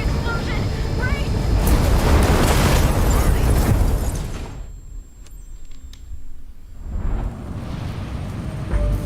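A video-game explosion as a burning car blows up, a loud sustained broadband roar for about four seconds that drops away, then rumbling debris and noise returning.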